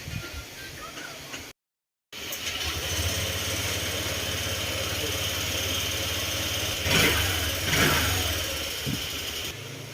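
A Honda Click 125 scooter engine runs after a repair that included water pump, cover, tensioner, throttle body work and an oil change, giving a steady close idle that briefly revs up near the end after a short cut at the start.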